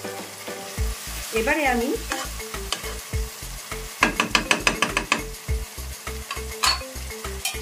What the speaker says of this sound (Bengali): আমি ধিমে আঁচে নাড়তেই থাকবো যতক্ষণ না অবধি টমেটোর কাঁচা গন্ধটা চলে যায়।